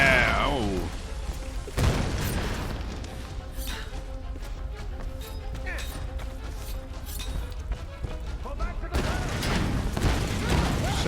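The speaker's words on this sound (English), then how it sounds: "So many explosions." Explosions and gunfire in Tomb Raider (2013), with a heavy boom opening the stretch, then rumbling blasts, crashes and rattling debris, and another large burst near the end, under occasional talk.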